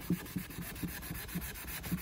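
Rusty cast iron pan being scrubbed hard outdoors on a board over a plastic table, giving faint, rhythmic rasping strokes about twice a second, close and alone.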